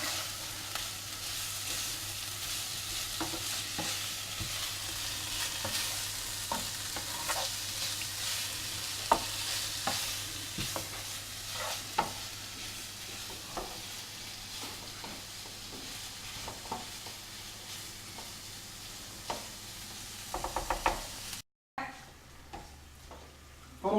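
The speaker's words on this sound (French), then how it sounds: "Pendant que nos lardons et nos oignons sont en train de finir de cuire" Bacon lardons and onions frying in a pan with a steady, soft sizzle, broken by the light clicks and scrapes of stirring, close but quiet.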